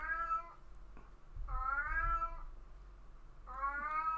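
A cat meows three times in long, rising and wavering cries spaced about a second apart, close and clear over a low background hum.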